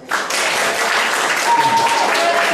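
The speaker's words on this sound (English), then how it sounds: "Round of applause." A room of guests at a bar mitzvah party bursts into loud applause for a hypnotist's show, a dense full crowd sound that starts abruptly and holds steady, with some voices and cheering mixed in.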